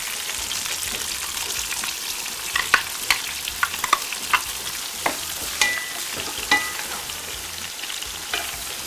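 Chicken sizzles in a pan with onion, cinnamon and caraway, a steady close frying hiss broken by sharp clacks of stirring, with no talking.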